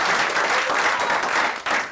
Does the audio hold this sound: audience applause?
yes